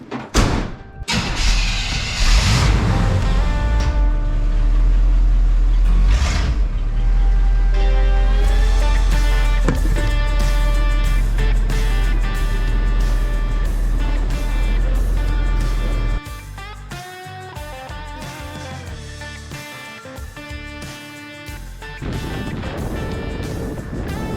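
A lifted plow truck on an upgraded suspension drives off, its engine a loud steady rumble with thumps and rattles, then quieter cruising toward the end.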